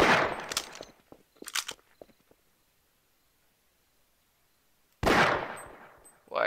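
Gunfire in the video game Half-Life: bursts of rapid shots, then a few scattered reports, a long silent gap, and another loud close burst near the end.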